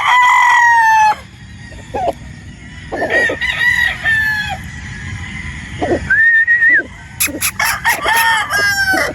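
A gamefowl rooster, a 3/4 Boston and 1/4 Sweater cross, crows loudly and close several times in long drawn-out calls, with clucks and other birds calling in the background on a game farm in Batangas.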